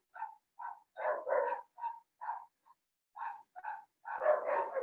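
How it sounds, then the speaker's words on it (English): Dogs bark close by in a quiet room, about a dozen sharp barks in short bursts and pairs with brief pauses, ending in a rapid cluster, with no talking. "Sorry for the dogs."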